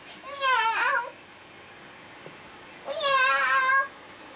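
A cat meows twice, close and clear, each call long and drawn out, with a quiet pause between the two.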